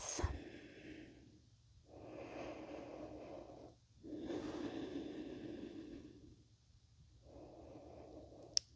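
Slow, deep breathing during a yoga flow: long soft inhales and exhales alternate in a steady rhythm, close and quiet, with no talk.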